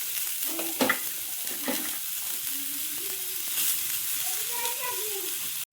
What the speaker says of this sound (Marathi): त्याच कढईत कांदा भाजून घ्यायचा।